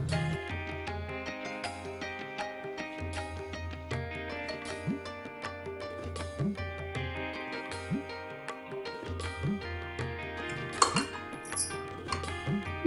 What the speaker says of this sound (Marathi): आता हे मिश्रण व्यवस्थित मिसळून घेऊ।